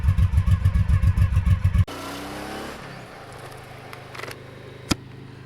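A Honda PC800 motorcycle fitted with a Dominator exhaust runs with a loud, close, pulsing engine note that cuts off abruptly. A quieter low hum and a few faint clatters follow, then one sharp knock near the end.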